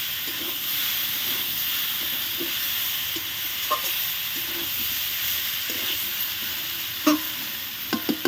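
Fried fish being stirred through a spicy masala in a pan: a continuous sizzle and hiss broken by repeated scraping strokes of a spatula, with a few louder knocks toward the end.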